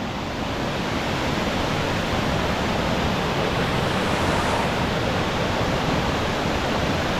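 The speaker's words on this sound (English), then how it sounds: "you can hop the guardrail and see where the waterfall enters the cave" A rain-swollen waterfall pours into a cave beside Holtwood Road after historic rains, giving a dense, unbroken roar of rushing water, loud and close with no other sounds.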